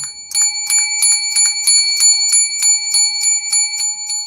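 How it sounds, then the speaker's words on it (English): A small metal bell is shaken indoors in a fast, steady jingling rhythm that rings bright and continuous, with no voices alongside. "if you shake a bell in your house, you break up the chi"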